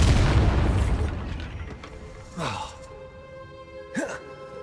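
In the video game Hogwarts Legacy, the Bombarda spell sets off a loud, close explosion whose deep boom fades over a couple of seconds, followed by brief vocal sounds.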